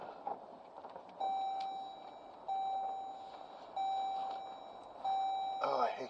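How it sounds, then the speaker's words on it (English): Repeated electronic beeping, four evenly spaced tones each lasting about half a second, loud and clear over a low background hum, with a burst of other noise at the end. "Oh, I hate this freaking beeping."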